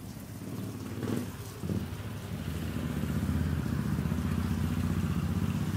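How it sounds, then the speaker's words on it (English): A motorcycle drives by on a road in the Philippines, a low engine rumble that builds and holds loud toward the end over a constant hissing background, with no speech. "That motorcycle drove by."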